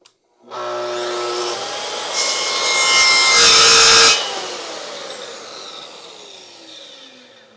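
A saw with its blade mounted backwards cuts a wood board for a fireplace mantel, giving a loud, sustained harsh grinding whine that swells and then cuts off, leaving a fading spin-down.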